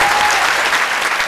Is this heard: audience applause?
yes